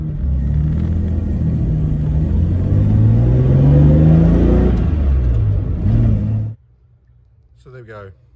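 A 1959 Jaguar XK150 FHC engine on the move, a steady mid-pitched rumble that swells slightly as it pulls, then cuts off abruptly, leaving near silence and a brief faint sound.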